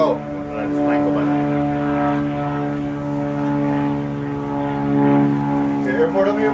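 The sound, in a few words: airplane flying overhead near an airport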